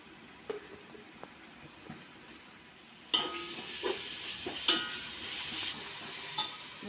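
Ginger paste goes into onions and green chillies already fried with salt in a pan. After a quiet start with light scrapes, a steady close sizzle swells, with stirring scrapes and clinks and no talking.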